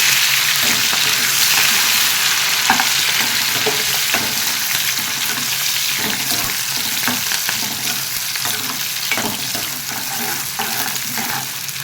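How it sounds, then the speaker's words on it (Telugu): Onion, curry leaves and green chillies sizzle steadily in hot tempering oil for a brinjal green dal curry, a loud continuous frying hiss with occasional stirring clicks and no talk. "తాలింపు లేగినాయండి మనం ఉల్లిపాయ వేసుకుందాం అలాగే ఉల్లిపాయ కరివేపాకు పచ్చిమిరపకాయ మూడు వేసుకున్నాం"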